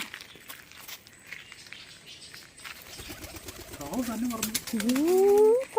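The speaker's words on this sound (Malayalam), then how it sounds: "പ്രാവ് തന്നെ കയറുന്നു." Pigeons coo softly close by, a few rising calls toward the end, with faint shuffling and light background noise throughout.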